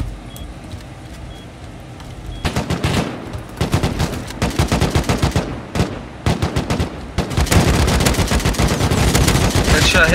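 Bursts of rapid automatic gunfire in the video game Rust, loud and close, come in dense clusters with brief gaps, growing into near-continuous firing toward the end, over game ambience.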